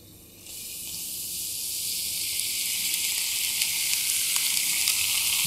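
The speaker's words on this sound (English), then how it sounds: "This is liquid nitrogen I'm pouring on." Liquid nitrogen poured onto high-temperature superconductor pieces, giving a sudden loud, steady hiss that starts abruptly and keeps sizzling and building, with faint crackles, and no talk.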